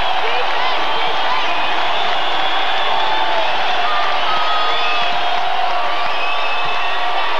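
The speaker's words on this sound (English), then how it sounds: "you hear the Pitt crowd" A college basketball arena crowd at a game between the New Mexico Lobos and Pittsburgh roars in a sustained wall of cheering and whooping, while a voice commentates over the noise.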